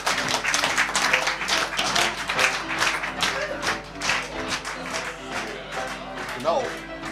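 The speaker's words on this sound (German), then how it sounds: "Nochmal einen Applaus für unseren musikalischen Adventsengel" Audience applause for a musician at a small outdoor Christmas market, dense clapping that runs steadily throughout with people talking and calling out over it.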